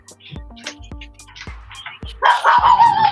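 A dog barks several times in short, sharp bursts nearby, with a louder, noisier stretch toward the end.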